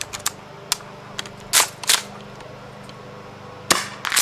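A Tokyo Marui M870 gas airsoft shotgun is fired a few times, giving sharp, close pops spaced irregularly over a faint background hum.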